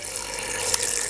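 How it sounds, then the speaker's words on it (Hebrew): Water pours steadily from a tap into a large cooking pot for boiling chickpeas, a continuous close hiss with no talking. "לתוך הסיר אני מוסיפה מים"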